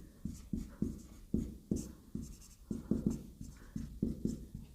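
Steady writing on a classroom board during a maths lesson, a brisk rhythmic series of short scraping strokes with brief gaps, close by and moderately quiet, with no talking.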